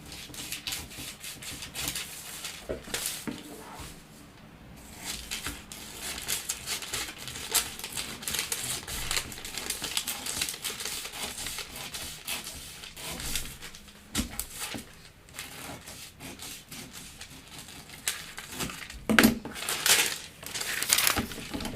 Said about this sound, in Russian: Я сразу вырезаю выточку, чтобы мне удобнее было выкраивать на ткани, переносить выточку на ткань.